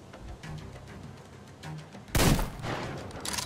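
A single loud gunshot from a rifle in Metro Exodus cracks out sharply after a quiet stretch, followed by a lingering rumbling tail and a second smaller burst of noise near the end.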